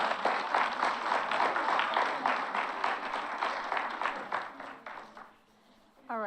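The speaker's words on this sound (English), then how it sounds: "Let's give them another round of applause." School audience applauds students at an Oak Park art event, a steady dense round of clapping that tapers off near the end, with a brief voice at the close.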